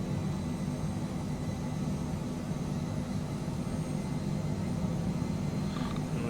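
Phenom 100 jet engines on approach, a steady, continuous broadband roar with a low rumble, heard from inside the cabin without a break.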